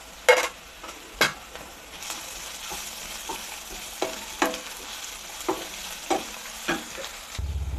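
Garlic paste, ginger paste and chopped green chili frying with onions in a pan for chickpea bhuna khichuri, a steady close sizzle broken by repeated sharp scrapes and clanks of a spatula stirring.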